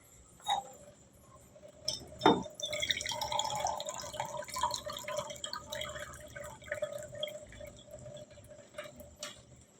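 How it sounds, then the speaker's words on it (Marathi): Water poured into a pot of cooking rice, with a sharp metallic clink near the start followed by a soft running trickle and drips, quiet and close. "पण तांदळातलं पाणी जर आटत आलं ह्याच्यात आपण पाणी टाकू थोडं"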